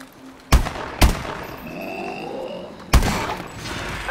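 Gunfire in the video game Call of Duty Advanced Warfare, during an Exo Zombies match: three sharp, loud single shots, two close together and a third after a pause, over a low ambient hum.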